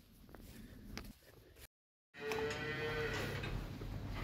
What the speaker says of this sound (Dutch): Dat is een koe die moet binnenkort kalven.